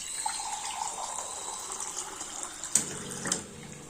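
Water runs steadily into a cooking pan while a dish is being made, a constant low splashing and trickle with a couple of brief metallic clinks near the end.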